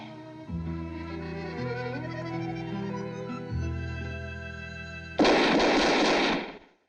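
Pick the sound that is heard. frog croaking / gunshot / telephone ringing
gunshot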